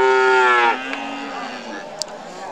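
Friesian calves at a busy cattle market let out a loud, drawn-out moo close by, followed by quieter lowing against a steady murmur of crowd noise and a brief sharp knock.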